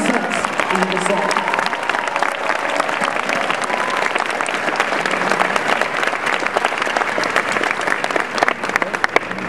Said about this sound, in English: please give a round of applause to Mike Bednar and his team for the amazing sets in the set